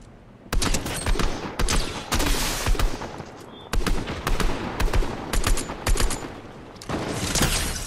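Bursts of rapid automatic gunfire ring out in a Fortnite match, coming in several loud clusters separated by short gaps. The shots are sharp and close, with no talk over them.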